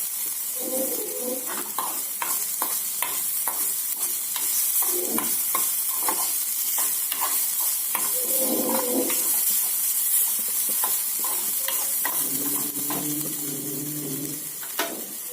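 Ginger fries in hot oil in a pan, a continuous sizzle broken by repeated scraping and clinking as it is stirred, close and fairly loud with no talk.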